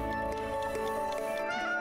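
A cat meows in the co-op video game It Takes Two, a short high cry heard over game music and background tones.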